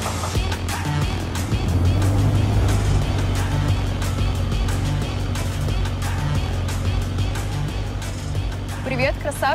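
A powerful 500-horsepower black car drives with a steady, loud engine drone and low rumble throughout, with music and other sounds layered on top.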